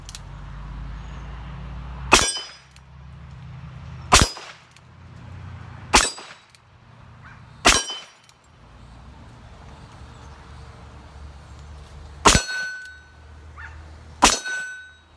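A Ruger Blackhawk Bisley revolver firing .45 Colt 255-grain ACME semi-wadcutter bullets at a distant steel gong, six sharp shots spaced about two seconds apart, each followed by a faint metallic ring, with quiet between.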